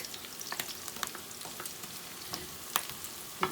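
Squashed garlic chunks land among onions already frying in a pan, producing a dense, crackling sizzle with stirring clicks and a couple of sharper pops, close and continuous, with no voices.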